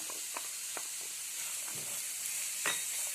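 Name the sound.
chopped onions sautéing in hot oil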